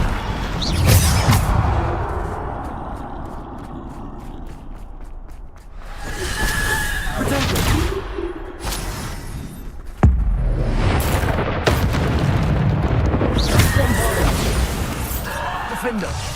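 Spells are cast in the Hogwarts Legacy video game, with loud whooshes, crashes and impact booms in separate bursts, mixed with a voice calling out.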